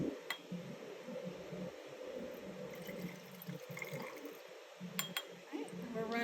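Distilled water runs and splashes softly into a lab vessel for a chemistry titration blank, a faint continuous trickle with a few brighter clinks of glassware.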